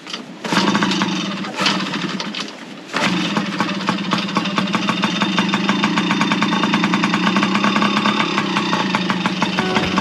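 A motorbike started with the choke on and left idling beside an Isuzu NPS 4x4 truck: a sputtering catch, then a loud, close, steady rapid idle running on alone.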